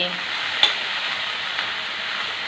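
Drumstick leaves are stirred in a pan, a soft even sizzling hiss with one sharp utensil knock early on and a fainter one later.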